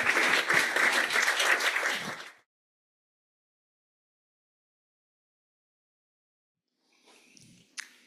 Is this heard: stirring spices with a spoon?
no